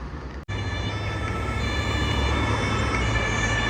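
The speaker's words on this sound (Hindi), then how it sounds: "देखो ये जो एम्बुलेंस का जो आ रही है गाड़ी भाई, इतना आवाज़ करती है" A loud, steady ambulance siren over heavy traffic rumble on a street in Germany, close by, with a brief dropout near the start.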